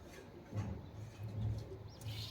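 Low, soft cooing of domestic pigeons close by, a few rounded coos repeating in short bursts, with faint rustling in the background.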